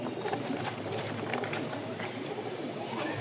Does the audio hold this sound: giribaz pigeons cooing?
yes